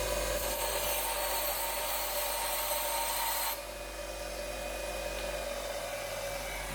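Grinder putting flats onto a bolt for a Land Rover Defender roof rack rail, a steady loud abrasive rasp that drops to a quieter grind halfway through, with no talk.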